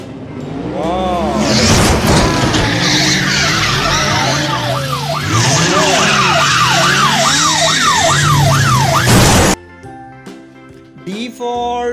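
A car sound effect with tyres skidding and screeching, warbling sharply in zigzag sweeps over a busy engine and siren-like wail for about nine seconds, then cutting off abruptly into quieter music.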